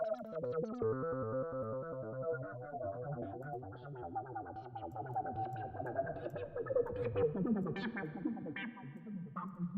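Synth notes played through a reverb effect in a music production session, a pulsing, warbling tone with echoing tails and chorus-like shimmer that thickens and grows busier toward the end.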